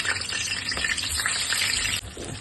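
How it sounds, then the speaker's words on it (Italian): Eggplant slices fry in hot oil in a pan for mulignane a pullastiello, a steady dense sizzle close to the microphone that dips briefly near the end, with no talking. "Ma andiamo a friggere in mezzana. Melenzano."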